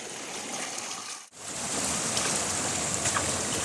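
Steady rushing water from a waterfall swollen by early monsoon rain, a broad continuous roar close by, with a brief dropout near the start before the rush resumes.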